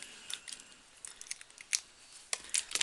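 Children's scissors snip through paper for a recycled Mother's Day craft, giving a run of short, crisp cuts in irregular bursts, close up with no talking.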